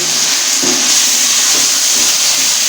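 Chickpeas fry in hot oil for restaurant-style cholay, a loud, steady hiss and sizzle with faint stirring thumps underneath.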